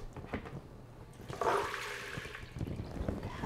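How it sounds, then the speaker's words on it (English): Water strained off a half cup of soaked soybeans for a soymilk maker, a soft trickle that swells into a fuller pouring splash midway and keeps running, heard close and fairly quiet with no voices. "So what I'm gonna do is I'm just gonna strain this water off."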